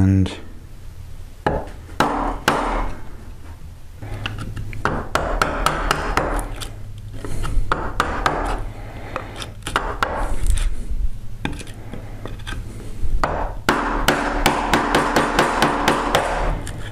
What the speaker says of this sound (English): just go around the edge with a 1-inch chisel, drop it into the marking knife slot there